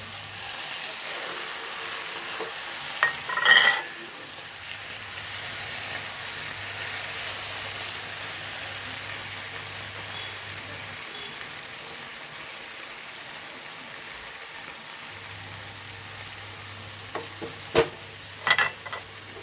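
Tomatoes fry in a pan while mackerel and prawn pollichathu is being cooked, giving a steady hiss and sizzle throughout, with a couple of short utensil clatters near the start and end.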